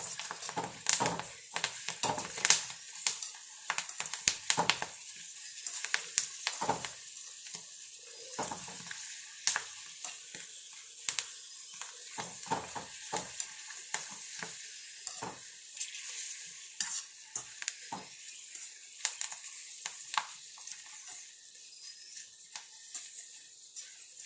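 Pappadam crackles and sizzles in hot oil, a close, busy frying hiss punctuated by frequent sharp pops and occasional utensil clatter, with no talking.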